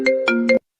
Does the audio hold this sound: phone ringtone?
yes